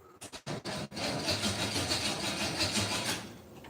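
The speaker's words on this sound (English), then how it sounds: "But if you listen. Fuel pump's on." A fuel pump runs in a 1963 Impala with a Blueprint 350 and Holley Sniper fuel injection, giving a steady low hum after a few sharp clicks at the start.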